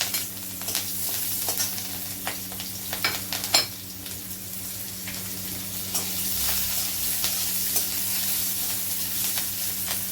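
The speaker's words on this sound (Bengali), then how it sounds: "এখন এই পেঁয়াজটা দিয়ে দেবো তেলের উপরে।" Onions sizzle in hot oil left over from frying fish, a steady crackling hiss broken by scattered spits and pops and some stirring clatter, with no talk.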